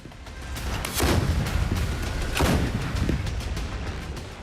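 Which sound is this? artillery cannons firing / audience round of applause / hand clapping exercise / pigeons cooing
artillery cannons firing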